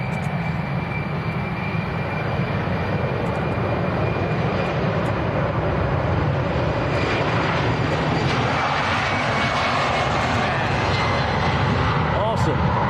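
An airliner takes off at Manchester Airport at sunset, its engines roaring as a steady, broad rumble that holds for the whole stretch, with an excited voice heard over it.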